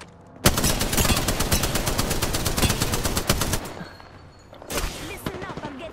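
Rapid automatic gunfire in a video game squad fight, loud dense bursts of shots with sharp single cracks, easing briefly then firing again, with faint voices underneath.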